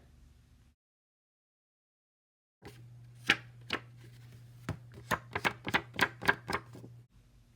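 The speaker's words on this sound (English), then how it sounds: "This is a paper, and I'm going to let you hear the sound of it right now." Thick paper ephemera from a vintage-style stationery set handled up close, a burst of sharp crisp rustles and snaps after a short silence, loud and alone.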